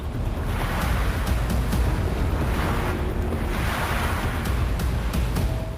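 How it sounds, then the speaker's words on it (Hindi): Ocean waves surge around an island in the Arabian Sea, a continuous broadband roar of surf with gusting wind buffeting the microphone, steady and loud throughout with no voices. "इन लहरों ने कुछ दिन पहले ही एक नाव को पलट दिया था।"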